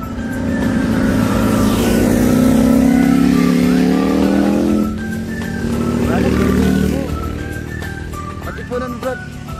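Large motorcycles sweep through a mountain hairpin known as Devil's Corner on the Marilaque road, engines rising and falling loudly as two or more bikes pass close by, one after another, with speech underneath.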